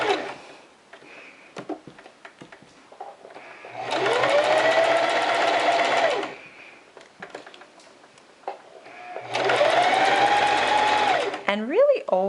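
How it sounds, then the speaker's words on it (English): Sewing machine stitching a seam along a bias-bound edge, running in two loud sustained bursts of steady motor whir separated by quieter pauses where a person talks. "And I'll go ahead and sew my seam."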